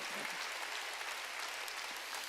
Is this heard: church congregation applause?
yes